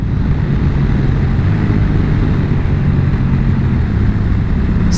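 Honda Rebel 1100 motorcycle riding in gear, a loud, steady engine drone with deep low rumble and wind, holding an even pace throughout with no talking.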